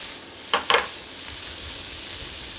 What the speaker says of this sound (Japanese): この音聞いてください。 じゅわじゅわってね、じゅわじゅわ。